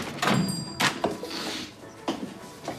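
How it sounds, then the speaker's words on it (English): A factory door is tried and pulled open: several dull thunks and rattles, with a couple of sharper knocks spread across a few seconds at moderate, close range, and no talking. "We could try the door."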